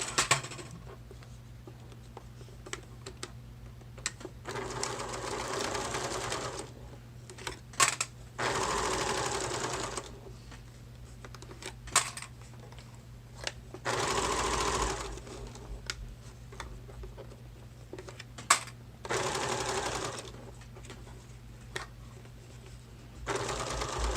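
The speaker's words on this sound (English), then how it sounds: "I will go ahead and just sew this on." A sewing machine stitches a slim gusset onto a clutch bag, its needle rattling in several bursts of a few seconds each, separated by quiet pauses, at close range.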